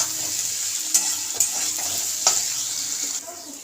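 Onion and capsicum fry in a pan with a loud, continuous sizzle, and a few sharp spatula scrapes and knocks stand out as the mix is stirred.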